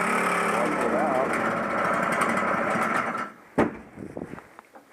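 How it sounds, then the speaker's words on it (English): A Toro 418 snowblower engine, started cold without choke, buzzes in a fast, high, rattling run for a few seconds before cutting out, followed by a sharp knock and scattered handling noises. "we're going to get a pretty good idea of how it starts cold"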